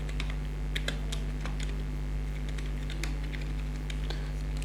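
Steady keystrokes on a computer keyboard as Hello World is entered in C# code, clicks rapid and continuous at close range over a constant low electrical hum, with no voice.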